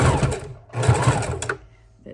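Two short bursts of a sewing machine lock-stitching a miniature junk journal, close and fairly loud, with a brief pause between runs and a faint click at the end.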